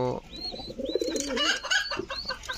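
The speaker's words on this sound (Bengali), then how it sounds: "তো এখানে কিন্তু সবগুলোই দেশি কবুতর" Domestic pigeons cooing in a pigeon loft, soft repeated throaty coos and bird calls up close, with someone talking over them.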